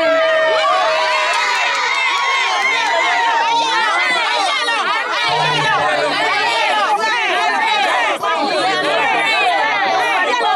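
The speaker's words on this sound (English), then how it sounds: "Stay on the cheer on the team now, cheer on the team now." Spectators at a primary school parents' sports day shout and cheer on the runners during a race, with excited children's voices and dense crowd chatter continuing loud and unbroken.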